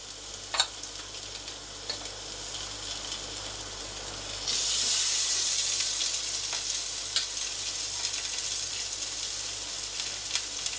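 Three pieces of rohu fish fry in shallow oil in a wok on a gas stove, making a loud, continuous crackling sizzle that swells partway through and stays intense, broken by occasional sharp spits and pops.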